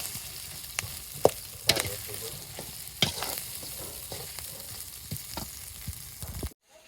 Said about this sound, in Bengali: মাছের ডিম দিয়ে এখন নাড়াচাড়া করে নিচ্ছি